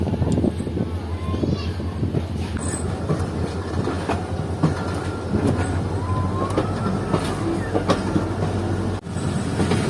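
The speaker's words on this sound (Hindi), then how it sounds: "हज़ारा एक्सप्रेस से जाने के 5 मिनट बाद ट्रेन डिपार्ट कर रही है जंगशाही रेलवे स्टेशन से।" An express train pulls out of Jungshahi railway station with a continuous loud rumble and clickety-clack of wheels on rails, heard from on board, with people talking in the background.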